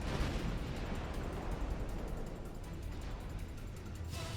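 Naval gunfire in Ultimate Admiral Dreadnoughts during a Spain versus Austria-Hungary battlecruiser fight, a dense continuous rumble of distant booms and bursts without clearly separate shots.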